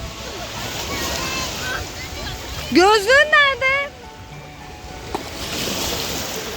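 Sea waves wash and slosh steadily in the background on a hot, slightly choppy day while people talk nearby, one voice rising in a short questioning call.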